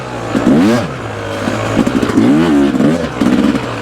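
An ATV engine revs hard on a dirt track, rising and falling in three or four loud, close bursts with throttle blips and rough mechanical clatter, no voices.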